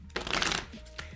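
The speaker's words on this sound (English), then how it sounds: "when I shuffle the cards, I'm focusing on the question that I have." Tarot cards are riffled in a quick, crisp burst of flicking paper, followed by a single soft tap as the deck settles, close and clear.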